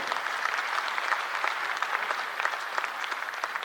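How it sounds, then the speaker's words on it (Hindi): Loud, dense applause from a crowd gathered for party leaders at a Chhattisgarh political meeting, steady and sustained throughout with no voices on top. "मैं चाहूंगा कि आप सब लोग उनके लिए एक बार"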